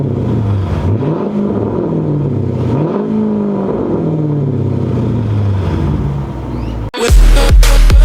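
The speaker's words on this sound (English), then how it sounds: "Try to get you guys a sound clip from inside of revving" A lowered Dodge Durango R/T with a loud exhaust, 42,000 miles and at operating temperature, revs from inside the cabin: a deep engine rising and falling through several throttle blips, loud and steady, ending in a sharp clunk.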